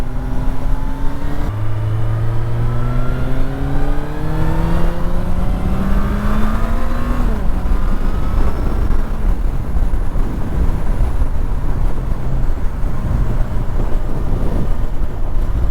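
A 2009 Suzuki Bandit 1250 N motorcycle engine pulls hard on the highway, rising in pitch through a couple of gear changes, then settling into a loud, steady cruising drone.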